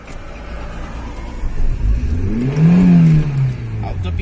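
A broken-down car on a road trip through Macedonia is cranked with the throttle pressed, and the engine catches, rising into a loud, close rev that swells and then settles, with voices murmuring around it.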